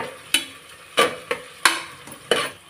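Onions fry as ginger-garlic paste is stirred in. A spatula scrapes the pan in five evenly spaced strokes, each a sharp close scrape over a low sizzle.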